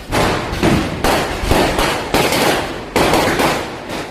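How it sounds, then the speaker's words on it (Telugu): Diwali firecrackers burst near a house in a quick series of loud, sharp blasts, each with a crackling rumbling tail, roughly one every second. "Full crackers. మా ఇంటికాడ"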